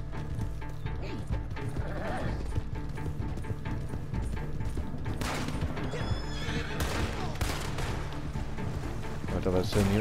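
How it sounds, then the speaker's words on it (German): A horse neighing loudly with hooves clopping in a video game, the whinny rising midway over busy game sound, with people talking throughout. "voll Terence Hill-Style-mäßig aufgesprungen aufs Pferd, Junge."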